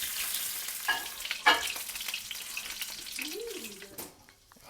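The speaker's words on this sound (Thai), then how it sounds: "ตอนนี้ทอดแล้วครับ" Beef frying in a pan for an Isan Thai dish, a bright sizzle under several stirring scrapes and clacks, fading to quiet near the end.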